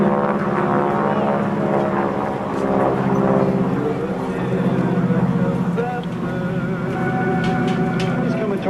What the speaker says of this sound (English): he pulls the nose up and up and up, airspeed dropping down as he barrel rolls the airplane back to the left